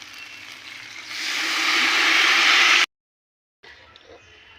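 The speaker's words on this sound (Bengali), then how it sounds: "এবারে আমি জল দিয়ে দেব।" Water poured into a hot pan of frying vegetables, rice and lentils for khichuri, a loud rising sizzling hiss that builds for a few seconds, cuts off abruptly, then resumes as a quieter simmering hiss.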